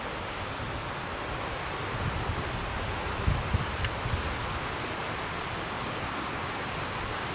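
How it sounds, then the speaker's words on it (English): Wind swirling around buildings, a steady broadband rush buffeting the microphone, with a few low gusty thumps midway and no voices. "There is a bit of a swirl in the wind up there as it's coming around the buildings."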